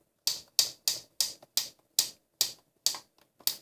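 A Cuisinart burr coffee grinder's setting dial is turned, giving about nine crisp, evenly spaced mechanical clicks, close and loud against silence.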